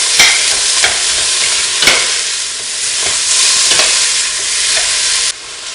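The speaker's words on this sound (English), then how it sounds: "We're going to saute that for a while, get some good flavor drawn out of this ham. Stir it on real well." Diced ham with onions sautés in a hot pan, a steady loud sizzle broken by the repeated scrape of a spoon stirring, close up.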